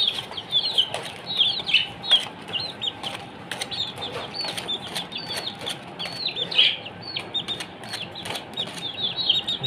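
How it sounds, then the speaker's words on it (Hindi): A brood of desi chicken chicks cheeps without pause, many high, thin peeps overlapping close by with soft rustling beneath. "ये देखें हमारे देसी मुर्गी के चूजे हैं।"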